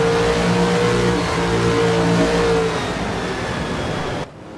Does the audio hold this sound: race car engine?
yes